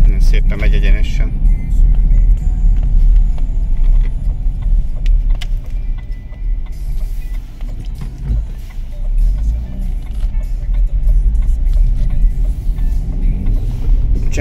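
An Opel Astra H with a 1.6 Twinport petrol engine hums steadily while driving over patched country roads, a loud continuous low rumble of engine and road noise inside the cabin, with someone talking over it.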